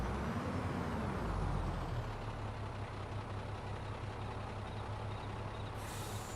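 A grain truck in Farming Simulator 22 drives with a steady, loud, low engine drone and a rising rev near the start, with no talking over it.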